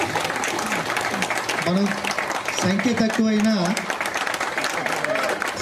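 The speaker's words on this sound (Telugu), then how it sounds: "చప్పట్లు తక్కువైనాయి" Applause at a 55th safety festival ceremony at the Kistaram OCP mine: steady clapping from the gathered audience while someone talks over it on a microphone.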